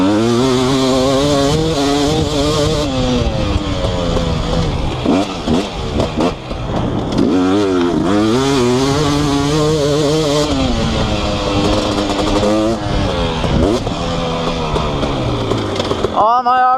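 A 2018 KTM 250SX two-stroke dirt bike fitted with an FMF Powercore 2 exhaust rides hard and close, its loud engine revving and dropping continuously through gear changes with sharp throttle blips, with no talk over it.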